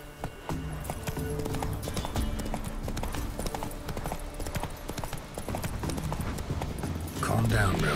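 Hoofbeats of Roach, the horse in The Witcher 3: Wild Hunt video game, galloping in a steady clip-clop rhythm under continuous game music and background speech, with a louder swell of sound at the end.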